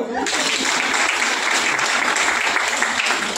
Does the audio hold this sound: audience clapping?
yes